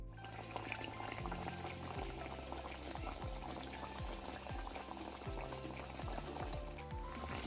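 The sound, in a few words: saltfish fritter batter deep frying in oil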